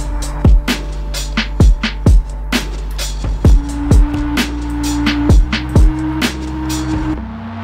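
Layered keyboard instruments in a beat breakdown, with transients pushed up by a drum shaper so each chord attack is sharp and percussive; punchy stabs repeat in a steady rhythm over sustained tones, loud and alone.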